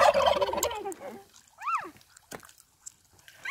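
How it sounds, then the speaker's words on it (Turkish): A burst of turkey gobbling up close on a rural village road, followed by a few scattered warbling calls and quieter gaps. "Bak bak, bizi takip ediyor bu hindiler."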